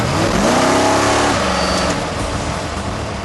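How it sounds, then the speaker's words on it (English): The world's fastest car drives on a public road, its engine rising in pitch under acceleration then shifting and settling into a loud, close roar over road noise. "Just driving this car on the road just feels completely perverse."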